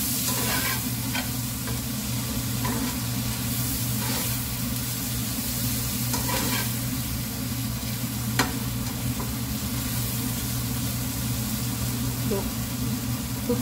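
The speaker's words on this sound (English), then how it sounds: "So I'm going to add the tomatoes." Tomato frying in a pan for butter paneer masala, a continuous soft sizzle with occasional stirring scrapes and one sharp click, steady and moderately close over a low background hum.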